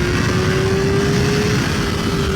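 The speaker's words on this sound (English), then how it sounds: "Because I'm revving 3rd gear out to redline on the street on a 4-cylinder." A 2023 Kawasaki ZX4RR four-cylinder sport bike screams in third gear near redline on the street, a loud, sustained high-pitched engine wail heard up close.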